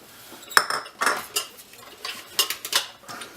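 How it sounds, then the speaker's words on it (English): A utensil stirs butter as it melts in a pot for rice crispy treats, making a series of irregular close metallic clinks and scrapes against the pot. No one talks over the stirring. "So we'll just mix it around here until it melts."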